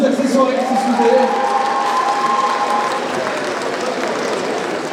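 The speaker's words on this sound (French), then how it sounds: "Oui, ben on peut les applaudir, nos accessoires, s'il vous plaît." An audience at a cosplay contest applauds the props, a dense, loud wash of clapping that fades slightly toward the end, with some voices in the crowd.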